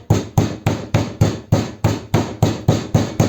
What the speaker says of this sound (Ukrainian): молоток і гарно так відоб'ємо